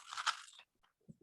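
A Cybersky Krystal puzzle cube is twisted close up: a dry, crunchy plastic rasp lasting about half a second, then a pause and a few small, soft clicks as the layers settle.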